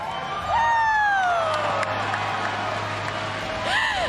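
A large home crowd at an Overwatch esports match between Toronto Defiant and Atlanta Reign roars, cheers and whoops continuously at full volume, with whistle-like shouts rising above the din.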